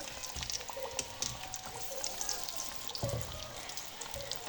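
Potato samosas deep frying in hot oil over a medium flame, giving a steady, close bubbling crackle with scattered sharp pops throughout.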